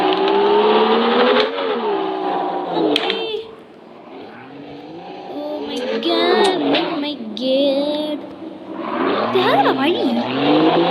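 A car engine in the racing game Drive Zone Online revs and climbs through gears, with whining pitch sweeps and brief tire squeals. Someone talks over much of it.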